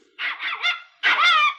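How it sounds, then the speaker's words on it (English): A small dog yaps in two bursts of high, strained barking and whining, the second longer and louder, close and alone without talk. "I am afraid my dog is a little cranky because it's hungry, so it is making all this noise."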